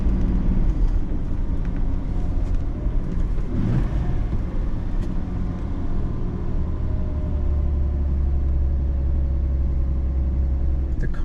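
A 1966 Mercedes 230S fin-tail with white-wall tires cruising in third gear, a steady low engine drone and road rumble filling the cabin, with a rising whine and a passing swell midway.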